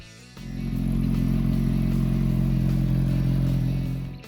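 A Suzuki GSX-R750 motorcycle engine starts up or kicks in and holds a loud, steady idle-to-rev rumble with a throbbing low tone, then eases off at the end.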